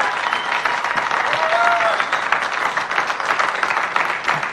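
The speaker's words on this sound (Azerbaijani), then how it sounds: "Alqışlar eşidirik." A studio audience of two teams' supporters at a televised music quiz show claps in a dense, sustained round of applause at moderate distance, with a brief voice audible through it.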